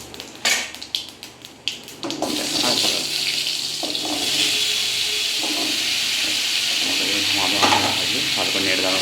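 Pumpkin sizzling in freshly tempered oil for a Bengali catla fish head curry: a few sharp clatters at the start, then a continuous loud hissing sizzle with occasional pan knocks, as people talk over it.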